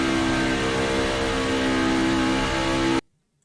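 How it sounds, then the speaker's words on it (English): A race truck engine held at full throttle in a racing video game, a loud sustained tonal drone with steady harmonics that cuts off abruptly into silence near the end. "You hear them standing on the throttle."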